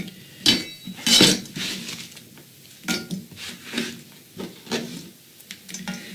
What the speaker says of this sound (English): It's time to put them in a skillet and start frying them up.